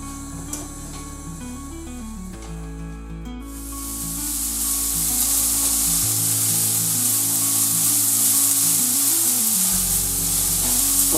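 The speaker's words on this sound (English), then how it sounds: "Now let's get these fried until they're nice and soft." Garlic frying in a pan for beef and onion pasties, a steady broadband sizzle that swells in after a few seconds and holds loud and close over a low background hum.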